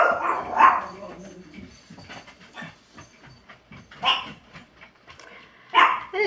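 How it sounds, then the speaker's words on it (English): Several dogs at home bark in separate bursts, one near the start and two more later, loud and close, with quieter stretches and some background noise between them. "And here are my dogs."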